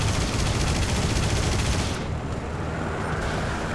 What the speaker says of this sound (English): Here we get a reload for our 23mm cannon